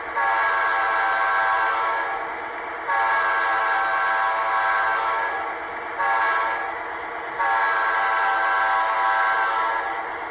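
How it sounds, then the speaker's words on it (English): A Rapido Metra F40PHM-2 model locomotive with LokSound v5 sounds its multi-chime horn in four loud, sustained blasts separated by short gaps. "Function 2 is the horn, which does also flash the ditch lights as well."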